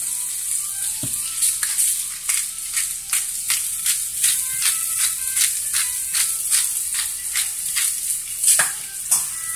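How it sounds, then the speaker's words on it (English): Broccoli with garlic, salt and pepper sautés in a pan, with a soft sizzle under regular scraping strokes as the vegetables are stirred, repeating steadily and close by. "we're gonna begin to just saute this"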